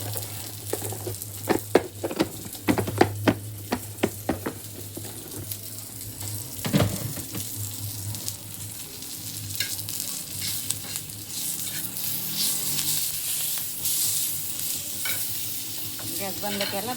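Green chilies roast in a pan with a steady sizzle, joined by a run of rhythmic, close tapping and scraping of a spatula against the pan, then a longer stretch of continuous frying hiss.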